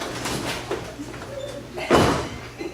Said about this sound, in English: Nothing but flapping doors in this house.